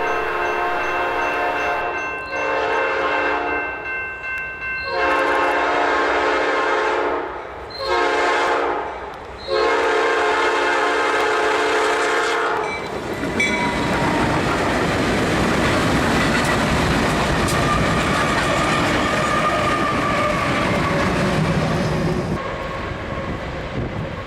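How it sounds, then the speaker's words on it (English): A freight locomotive horn blares in several long blasts, then locomotives running light without cars rumble and clatter past at close range, loud and continuous, in Cranford, New Jersey. "a light engine move heading west, came out from the forest and screaming past our vantage point"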